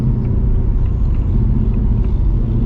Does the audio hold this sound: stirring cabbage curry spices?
no